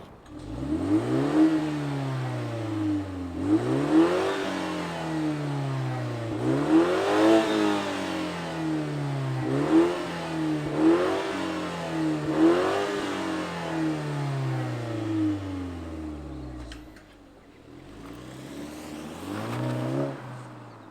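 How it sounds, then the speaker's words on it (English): A 2023 BMW 330i 3 Series sedan engine revs repeatedly, each rise in pitch swelling then falling back to idle in a steady rhythm, heard close and loud with a short quiet gap near the end. "let's fire up this 3 Series and hear what it sounds like"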